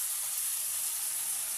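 Onions and prawns hiss and crackle in hot oil in a pan for prawn curry, a steady, close, bright sizzle that runs unbroken without any voices.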